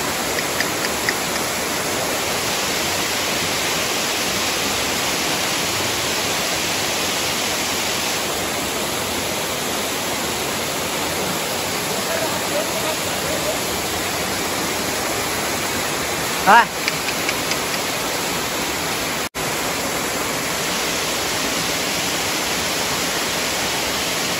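Elephant Falls waterfall in Shillong, Meghalaya, roars as a steady, loud broadband rush of falling water, unbroken throughout with a brief faint knock partway through.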